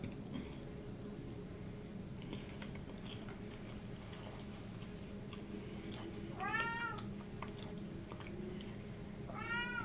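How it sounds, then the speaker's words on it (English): A house cat meows twice in the later part, short rising-and-falling calls over a steady low background hum, close by and moderately clear. "Why are you meowing like that?"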